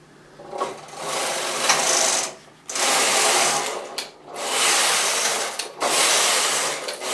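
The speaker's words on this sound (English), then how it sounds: "now when we take the carriage across, it will knit the needles that we had in hold" A Knitmaster knitting machine carriage sliding across a bed of knitting needles, giving loud, close whirring rasps in four sweeps with short pauses between passes, and no talking.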